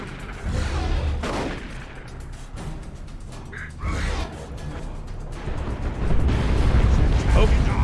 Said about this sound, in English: Nope, that was a grenade launch barrage from the Cadison Devils.